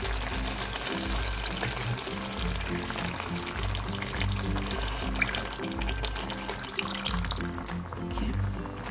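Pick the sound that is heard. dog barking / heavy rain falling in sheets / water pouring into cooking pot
water pouring into cooking pot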